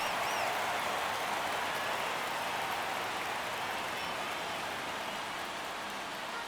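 Steady crowd roar fills a baseball stadium in MLB The Show 24 during a tense ninth inning, a dense, even hiss of many voices that holds constant throughout without clear individual shouts.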